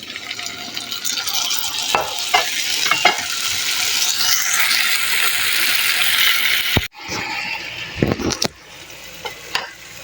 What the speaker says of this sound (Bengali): দিয়ে দিলাম টমেটো